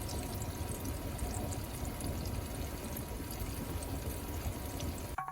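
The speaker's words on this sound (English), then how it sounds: "I recorded the sound inside the fermentation jar." Rice koji sake fermenting inside a fermentation jar gives a steady, close fizzing and bubbling that continues evenly throughout, with a brief bump near the end.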